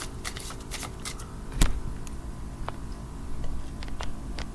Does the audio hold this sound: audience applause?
no